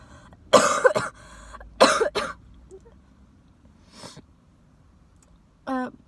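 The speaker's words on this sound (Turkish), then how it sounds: "Bu videoda çok öksürüyorum anlamsız şekilde ben de anlamadım." Several harsh coughs come in two close bursts, followed by a fainter cough and a short throat-clearing sound, with quiet pauses between.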